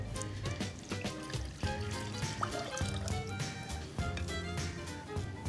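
Water splashes and trickles steadily into a pot holding pine honey and sugar for a halva syrup, with music playing throughout.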